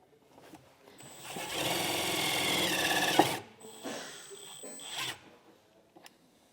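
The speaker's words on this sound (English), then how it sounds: "We'll take our self-tapping screw that came in our kit" A self-tapping screw driven by a power tool into vehicle sheet metal: a sustained whirring grind for about two seconds, then a shorter second burst, close and fairly loud with no talk.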